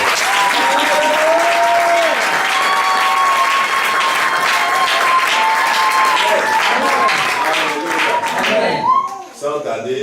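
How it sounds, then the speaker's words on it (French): A church congregation applauds loudly and continuously, a dense wash of clapping hands mixed with cheering voices that carries on for several seconds before tapering off at the end. "Acclamons fort le Seigneur."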